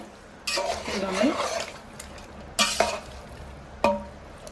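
A spoon stirs and scrapes through a large pot of native country chicken pickle with fried ginger garlic paste, in three distinct scraping bursts with quiet pauses between, and a faint voice at the start.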